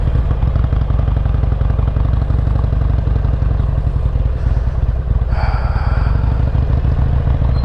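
A loud Harley-Davidson XL883L Superlow engine runs close by with a steady idle rumble, rising briefly in pitch as it revs, with some mechanical clatter.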